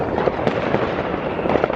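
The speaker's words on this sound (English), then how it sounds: "all of the fireworks will start going" Fireworks go off in the street at midnight with loud, dense, continuous crackling and popping. Rapid overlapping bursts fill the air with no pause.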